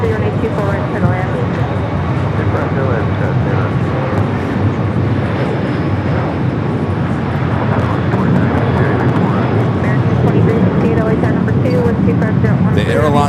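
An airliner arriving on the south runway at LAX after a go-around gives a steady, loud engine roar throughout, with voices talking over it.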